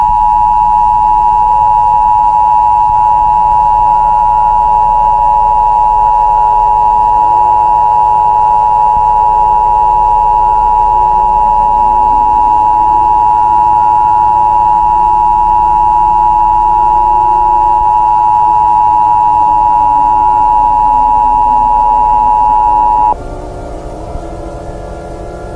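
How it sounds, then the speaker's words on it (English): An EAS emergency alert attention signal blares as a loud, steady, harsh two-tone electronic note that holds for over twenty seconds before cutting off, with faint swooping tones sounding beneath it. "Important instructions will follow the attention signal."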